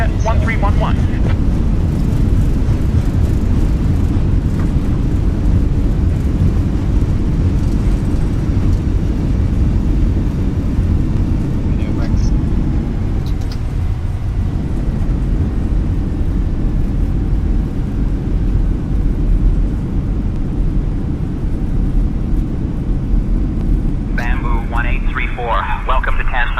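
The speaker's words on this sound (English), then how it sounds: "we have just landed at Tan Son Nhat International" An airliner touches down at Tan Son Nhat International in Microsoft Flight Simulator 2020, giving a loud, steady low engine and rolling rumble throughout, with radio chatter and a brief spool-up near the end.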